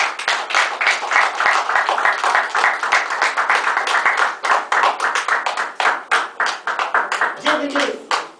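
A church congregation applauds together, a loud, dense run of rapid hand claps that holds steady before thinning into more rhythmic, spaced claps, with a voice briefly audible near the end.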